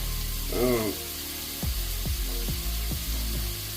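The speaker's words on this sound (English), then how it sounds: "So we want to saute this in small batches." Stew beef sizzles in a pan during a small-batch sauté, a steady close frying hiss with a few soft clicks and knocks from handling, and no talking.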